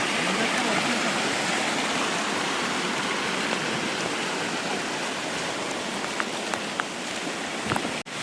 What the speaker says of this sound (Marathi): पाणी बघा मंडळी खूप पाणी आलंय बघा पाऊसच कसा पडतोय बघा पाणी